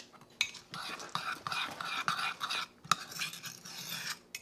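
A spoon stirs chocolate chips into keto chocolate chip cookie batter in a cup, giving quiet, close scraping and light clinks against the sides in an uneven rhythm.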